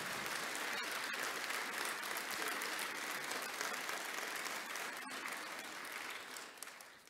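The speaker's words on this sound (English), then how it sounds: "we would like to give them a round of applause for coming" Remembrance Day church congregation giving a steady, sustained round of applause for attending war veterans of the Royal Canadian Dragoons, filling the whole stretch evenly before tapering off at the end.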